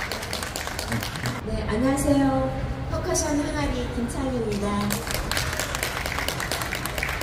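An outdoor audience at a Marronnier Park concert claps steadily for a percussion group. The dense applause fills the opening and closing seconds and keeps going under a voice in between.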